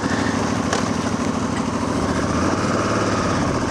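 A KTM 990 motorcycle engine runs steadily nearby, a continuous buzzing drone that holds an even level throughout with no talk over it.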